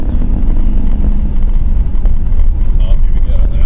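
A car engine accelerating hard under full throttle, a steady loud low roar with wind noise throughout, heard from inside the moving vehicle.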